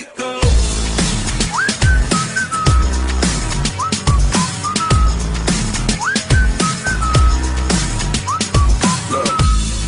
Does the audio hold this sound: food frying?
no